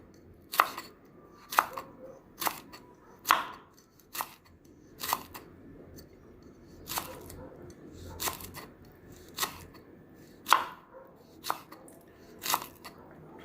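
Akkapana leaves for sambol being finely sliced with a knife on a board, giving about a dozen crisp, evenly spaced cuts roughly one per second, close and clear over a quiet background.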